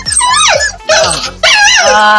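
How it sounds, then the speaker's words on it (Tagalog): Puppies whimpering and yipping in high, wavering cries, three bursts close to the mic with short gaps, fairly loud throughout. "Itong aso na to, ang galing tumakas nito."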